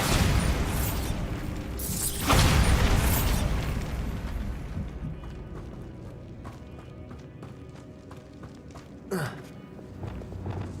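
A Bombarda blast spell cast in the video game Hogwarts Legacy bursts loudly at about two seconds with a rumbling boom, followed by a second sharp pop near nine seconds amid continuous game noise.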